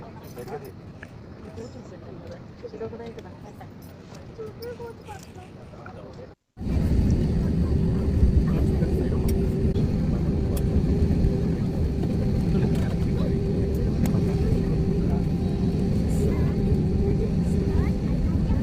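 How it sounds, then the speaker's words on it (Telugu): A passenger airplane takes off, its engine roar rising abruptly after a brief silence into a loud, steady broadband rumble that holds to the end, with people talking faintly beneath it. "ఫ్లైట్ టేక్ ఆఫ్ ఎలాగవుతుందో చూడండి."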